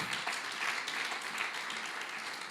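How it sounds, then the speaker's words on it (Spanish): An audience applauding, a dense steady patter of many hands clapping at moderate volume, with no voices over it. "Dale un fuerte aplauso si se lo va a dar."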